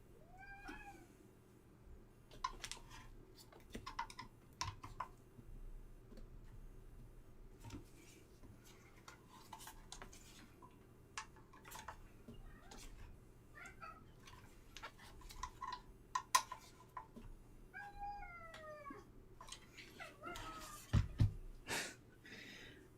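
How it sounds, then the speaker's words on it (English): A talkative cat meows repeatedly at a workbench, with short calls scattered through the whole stretch over a low steady hum, along with small ticks and clinks of tools and metal. "As you can hear, that cat's rather talkative."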